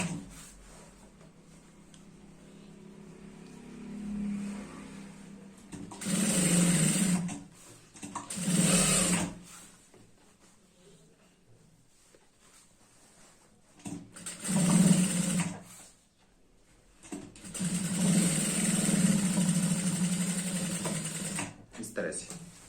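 A sewing machine stitches the hem edge of a girl's skirt in several bursts of steady motor whirring, separated by pauses, with someone talking over and between the runs.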